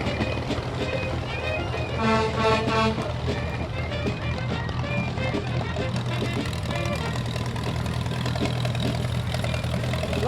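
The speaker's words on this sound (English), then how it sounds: "The oldest tractor in the parade, 90 years old." A 90-year-old tractor idling in a fair parade, a steady low engine rumble running under people chatting nearby and general outdoor crowd noise.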